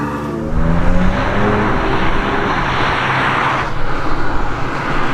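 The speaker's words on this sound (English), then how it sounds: "Very impressive engine by the sounds of it." A race car engine roars as it accelerates up a lakeside hillclimb course, a dense, loud, sustained howl that builds and holds steadily, heard close with wind-like broadband noise.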